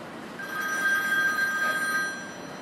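A telephone bell rings in one sustained trill lasting about two seconds, clear and fairly loud over a faint line hiss, with no voices.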